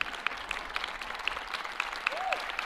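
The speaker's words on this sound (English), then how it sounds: "Let's give these graduates a big round of applause" Applause for newly standing graduates at Miami University's 2025 spring commencement, a steady wash of many hands clapping with a few sharper claps standing out and a brief whistle or cheer near the end.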